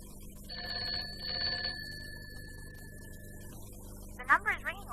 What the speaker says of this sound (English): The number is ringing all right.